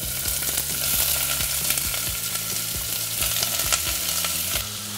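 Steady, loud sizzling of potatoes and onion frying in a hot pot, with occasional stirring scrapes and clicks, no voices.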